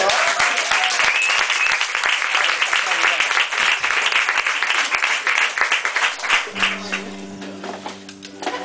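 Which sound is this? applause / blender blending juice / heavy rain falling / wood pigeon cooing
applause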